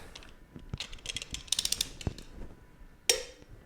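A ratchet wrench clicks in quick bursts while cylinder head bolts are torqued on a 1997 Jeep TJ Wrangler 2.5-liter engine, close and fairly quiet, ending with a sharp metallic snap.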